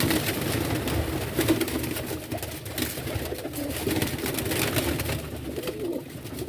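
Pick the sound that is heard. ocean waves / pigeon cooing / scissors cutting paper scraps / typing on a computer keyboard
pigeon cooing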